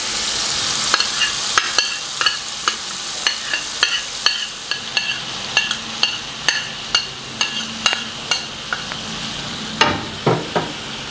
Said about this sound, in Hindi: चिकन को लो फ्लेम पे पकाना है ताकि ये अंदर से अच्छी तरह पक जाए